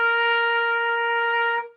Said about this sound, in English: Okay, so high C sounds like this.